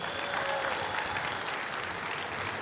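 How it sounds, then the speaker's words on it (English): Audience at the Megaplex 2019 convention opening ceremonies applauding steadily, a dense continuous clapping from a large crowd heard throughout. "Big round of applause."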